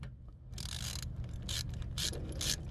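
A hand tool loosens the fitting on a tailgate lift strut with quick bursts of metallic ratcheting clicks, several short runs in a row, close up and alone.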